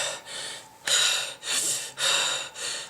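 A person imitates exhausted heavy breathing after swimming laps, with four or five loud, close, rasping gasps and blowing exhales in an uneven rhythm and no words.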